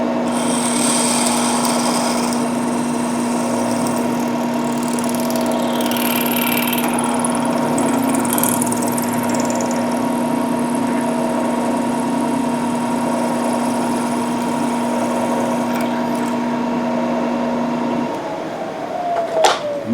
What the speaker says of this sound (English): I'm going to drill a hole through it and then go over to the drill press